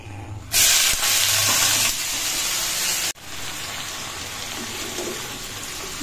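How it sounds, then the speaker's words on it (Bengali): Fish is dropped into hot oil in a wok (kadai), setting off a loud, steady hiss of frying that continues close by for several seconds, with a brief dip partway through. "দিয়ে এবার মাছটা আগে ভেজে নিই।"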